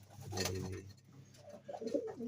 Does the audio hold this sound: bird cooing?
yes